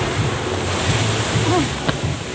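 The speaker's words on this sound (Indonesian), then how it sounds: "Ini suasana laut, ya." Ocean surf at the sea in Tapak Tuan, a loud continuous wash of breaking waves with wind buffeting the microphone throughout.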